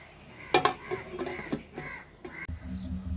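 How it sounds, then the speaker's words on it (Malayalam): A bird calls a few times in short harsh bursts, fairly close, over a quiet room with a faint clatter near the end. "അതാ കിളി വന്നിരുന്ന് വിളിക്കുന്നു"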